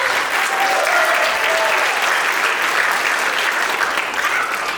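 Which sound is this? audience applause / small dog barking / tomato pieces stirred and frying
audience applause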